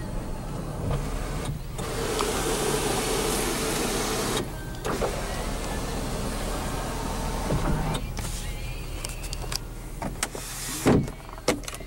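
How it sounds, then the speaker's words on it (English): The sunroof motor of a 2006 Honda Accord 3.0 L V6 whirs steadily inside the car, a close, continuous electric hum lasting several seconds, broken by a few short pauses and clicks near the end. "Here's your sunroof controls right here."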